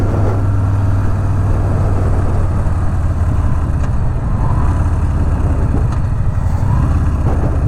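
A Harley-Davidson Street Bob 107 motorcycle slowing under engine braking gives a steady, loud, low rumble that holds for the whole stretch with no voices.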